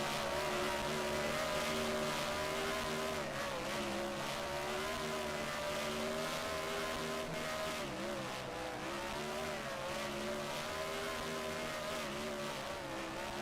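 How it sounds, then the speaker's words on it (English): Modified race cars doing burnouts at Pocono Raceway during a Race of Champions event: a continuous, dense engine roar held at a steady level throughout, slightly distant. "Savoring those burnouts here."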